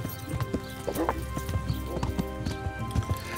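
Horse hooves clip-clopping in the medieval video game Kingdom Come: Deliverance, a steady close rhythm of hoofbeats at a walking pace while a player talks over it.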